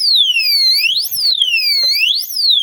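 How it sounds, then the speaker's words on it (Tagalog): A Honda Click 125 FI motorcycle's security alarm wails up close, its loud electronic tone sweeping up and down in repeating siren cycles with no talk over it. "may alarm pa pala ito mga bro. Tanggalin muna natin yung alarm."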